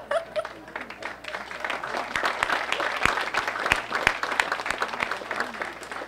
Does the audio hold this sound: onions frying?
no